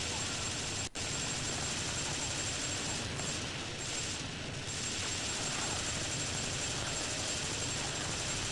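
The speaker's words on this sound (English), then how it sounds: "Where's the helicopter?" Helicopter in the video game TimeSplitters 2, a steady loud rotor and engine roar filling the scene, mixed with game noise and possible gunfire throughout.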